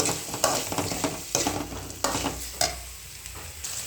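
Tomatoes fry in a curry pan with a steady sizzle, broken by repeated stirring scrapes of a spoon against the pan at a regular pace, close up and with no voices.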